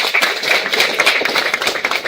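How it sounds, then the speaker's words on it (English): Audience at a guest lecture on AI-driven space antennas clapping for dignitaries joining the dais, a dense, steady round of applause lasting the whole stretch with no talk over it. "May I request everyone to give our dignitaries a warm round of applause."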